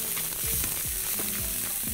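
Onion sizzles steadily in a hot pan with a dense, crackling hiss while a utensil scrapes and stirs through it in repeated strokes, close and alone with no talk.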